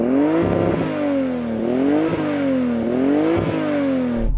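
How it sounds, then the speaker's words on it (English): Engine of a Toyota Supra car in the Gran Turismo driving game revs up and down in three rhythmic rising sweeps, loud and close, with no voices over it. "And now the Toyota Supra."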